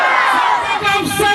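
A large crowd at a religious rally roars back in unison to the Naara-e-Takbeer call, a loud, brief burst of massed shouting close at hand.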